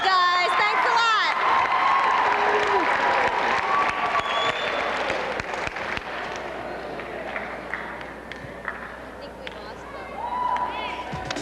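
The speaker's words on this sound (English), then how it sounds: "Give yourselves a round of applause." Student council members at a regional conference, some joining by teleconference, break into loud applause with cheers and whoops. The clapping eases into a lighter patter while voices carry over it.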